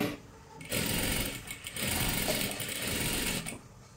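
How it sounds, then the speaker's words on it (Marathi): A sewing machine runs close by in a fast, steady whir while double-stitching a kurti seam, briefly slowing in the middle before continuing and then stopping. "इथे लक्षात घ्यायचं आहे, डबल शिलाई मारून घ्या."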